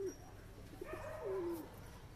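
Pigeons in a high-flying breeding loft coo softly, a few low rolling calls with one longer swooping coo near the middle, faint and close under a quiet room background.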